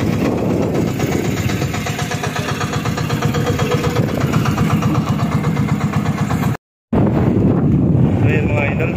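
A boat engine drones steadily near the microphone with heavy wind buffeting, leaving a loud, continuous rumble broken by a brief dropout near the end, on a tour outing past rock formations at Dingalan, Aurora.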